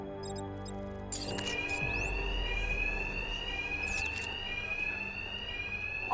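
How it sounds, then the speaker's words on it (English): Fire alarm blaring inside a bank in Batman: Arkham Knight, a loud steady electronic alarm tone with sweeping chirps, continuous after a brief burst of game noise. "My attacks will be covered by the noise of the alarm."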